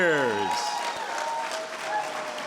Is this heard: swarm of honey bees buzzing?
no